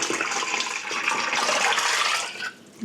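Hot water pouring into a pressure canner loaded with jars for canning spaghetti sauce, a steady splashing rush that swells and then cuts off abruptly near the end, close with no talking.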